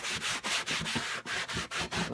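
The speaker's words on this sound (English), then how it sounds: "So get in there and scrub every nook and cranny." Scrubbing a leather car seat cushion with a leather and vinyl cleaner, a steady close, loud brushing rub in quick repeated strokes, roughly five per second, with no talk.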